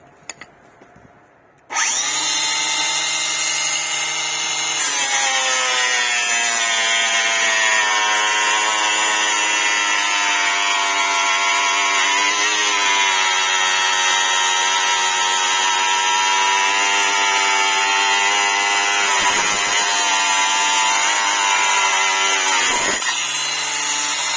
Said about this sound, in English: Continuing with this 60mm rebar and a grinding disc, let's try to start the machine.